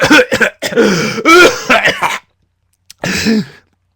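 Rough, throaty coughing and throat clearing in several bursts, close and fairly loud, with a short pause before a final hacking fit.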